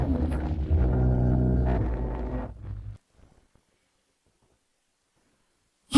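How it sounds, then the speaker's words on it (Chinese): Heavy thunder rolls during a snowfall, a loud, deep rumble lasting about three seconds before cutting to near silence, followed by a short sharp burst at the very end. "大雪天的，怎么会打雷闪电？"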